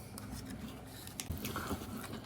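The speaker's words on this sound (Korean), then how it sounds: "바삭바삭 씹힌다" Close, crisp crunching as someone bites and chews a Dubai chewy cookie (dujjonku), with a few brittle bites followed by softer chewing and no talking.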